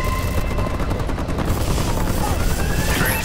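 A Warbird aircraft flies over a battle in Call of Duty: Advanced Warfare, its droning engine roar blending with continuous rapid gunfire and distant booms, loud and steady throughout with no talk.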